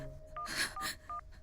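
A telephone is dialed as several short keypad tones beep between bursts of hiss, faint and close, with no talking.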